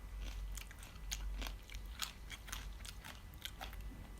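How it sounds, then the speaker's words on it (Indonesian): A crunchy snack bitten and chewed close to the mic, a run of crisp, irregular crunches and crackles repeating over a few seconds with no talking. "Kriuk-kriuk gitu, enak guys."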